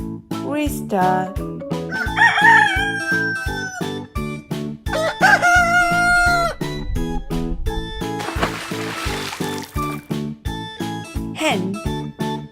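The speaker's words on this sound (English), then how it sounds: "Rooster." A rooster crows twice in loud, close cock-a-doodle-doo calls over a rhythmic backing track, followed by a brief splashing burst.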